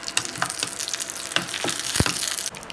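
Whole spices and bay leaves frying in ghee left from frying cashews, with flower spice, cinnamon, cardamom and cloves giving a steady close sizzle dotted with small pops and crackles, and a brief stir-like clink, with no talking.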